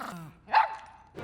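A dog in the Resident Evil series gives a snarling bark with a growl, close and mid-loud, set between brief bits of other sound.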